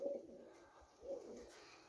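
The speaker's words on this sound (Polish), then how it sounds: "Jest tu, myślę, super parę gołębi." Pigeons in a loft coo softly, two low rolling coos heard faintly at a distance against quiet room noise.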